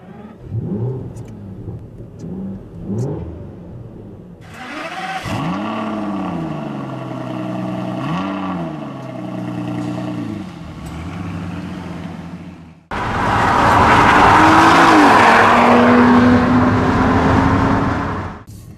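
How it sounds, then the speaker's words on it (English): An Aston Martin DB9 V12 engine cranks and catches, idles roughly, then bursts into loud, sustained revving close by, with no voices. "Let's start up the V12 engine and hear what it sounds like."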